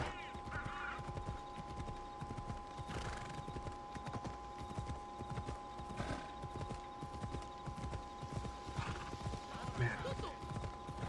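Horse hooves clip-clop steadily in Assassin's Creed Odyssey, a continuous rhythmic trot with an occasional whinny, set against ambient game sound and music while a voice talks over it.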